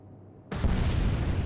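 A torpedo explosion in the Atlantic Fleet naval video game: a single sudden loud boom that cuts in after a quiet moment and holds as a dense, roaring blast.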